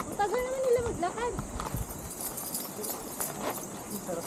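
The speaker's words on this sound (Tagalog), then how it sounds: "Padaanin niyo muna yung kabayo" Horse hooves clip-clopping on a hard path as the horse walks past, a steady rhythm of close clops with people talking nearby and a brief vocal sound at the start.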